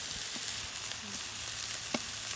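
Beef fajita meat searing over a wood-fired rocket stove outdoors, giving a steady, close hiss of sizzling with a few small pops and crackles.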